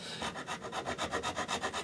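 Wooden guitar neck binding is sanded by hand, a quick rhythmic rasping of back-and-forth strokes, close and fairly quiet, about a dozen even passes with no voices.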